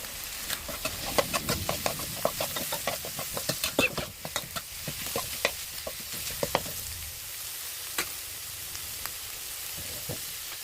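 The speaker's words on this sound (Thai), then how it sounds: "เดี๋ยวให้หมูมันสุกก่อนครับใส่น้ำปลานิดนึงครับ" Pork stir-fried for pad kra pao with a splash of fish sauce, rapid rhythmic spatula clacks and scrapes against the pan over a steady sizzle, busy at first and sparser later, close and without speech.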